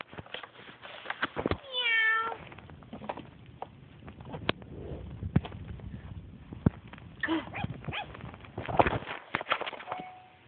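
A cat lets out a short meow early on, followed by soft shuffling, tapping and small movement noises in a quiet room.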